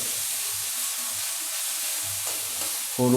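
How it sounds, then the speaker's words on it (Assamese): Green peas frying in a pan, a steady bright sizzle and hiss that holds throughout at close range, with a louder knock or stir at the very end. "গ্ৰীন পিসটো আমি ইয়াত দি দিছো এটা অলপ ফ্ৰাই হ'বলৈ দি"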